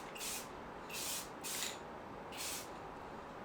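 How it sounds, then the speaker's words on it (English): Spray lacquer hisses onto a handmade wooden picture frame in four short bursts, each lasting about a quarter to half a second, close and fairly loud against a quiet background. "For a finish, I'm using spray lacquer, which is very easy to apply and dries quickly."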